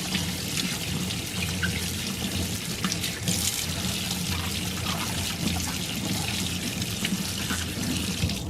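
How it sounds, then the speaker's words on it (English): Zucchini rinsed under a running kitchen faucet: a steady, fairly close stream of water splashing into a sink, continuous throughout with no talking. "I'm gonna go ahead and rinse the zucchinis real quick"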